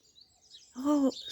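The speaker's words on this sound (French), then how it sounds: "Oh, ce matin c'est un coucou." A cuckoo calls on a morning outdoors in Plévenon: one short, fairly loud hooting note after faint high chirps.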